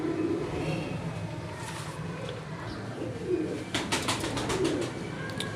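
Pigeons coo softly and repeatedly close by, including a Firozpuri female, with a few brief chirps against a steady background hum.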